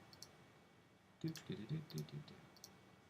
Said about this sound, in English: Every couple of inches, I'm just clicking.